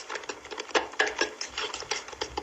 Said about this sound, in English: And then off we go, whisking again.